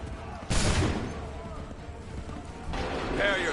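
A line of soldiers fires a musket volley in Assassin's Creed 3, a sudden loud crackling burst followed by rumbling echo and a second rise of gunfire, with shouted commands over it.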